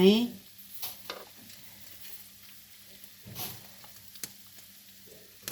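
Fish fries in hot olive oil, a soft sizzle running underneath with occasional stirring clinks and scrapes, close by, while someone talks intermittently over it.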